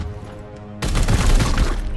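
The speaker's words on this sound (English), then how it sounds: "Opening fire." Gunfire in the turn-based tactics game Chaos Gate - Daemonhunters, a sudden loud burst of overlapping shots and rumbling impacts that cuts in after a quiet ambient hum and keeps going as a sustained fusillade.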